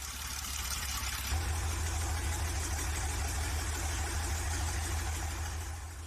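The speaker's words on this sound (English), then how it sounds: "Then the over 80-year-old engine is ready to be started on this custom-built engine stand. It starts first time" An over 80-year-old tank engine runs on a custom-built stand in a workshop, with a water barrel standing in for its cooling system. It gives a steady, loud, low rumbling idle for the whole stretch, with no talk.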